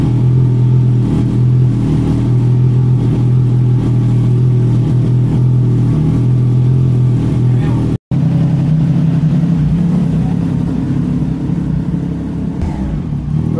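A 2025 Triumph Trident 660 fitted with an IXIL full exhaust and resonator revs loudly and close up, its engine note rising and falling steadily, with a brief cutout midway before it resumes.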